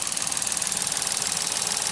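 A 2015 Ford Fiesta's 1.6 liter Sigma 4-cylinder engine runs alone at a steady, close idle, a fast, light, even ticking hum with no talk.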